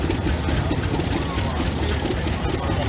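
A John Deere two-cylinder tractor engine runs steadily at a parade during a threshing show, a loud, close, continuous rumble throughout, with faint background voices mixed in.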